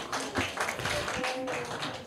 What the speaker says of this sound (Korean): 우리 강해 주신 목사님께 감사의 박수 하겠습니다